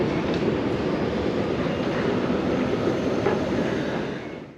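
A train rumbles through a railway station with a broad, continuous roar and faint wheel clatter, holding steady before fading out near the end. No one speaks.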